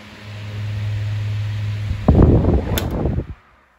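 A 1996 Super 12-inch desk fan fitted with larger blades gives a steady low hum and whir, then a sudden burst of rattling clatter and shaking before the sound cuts off.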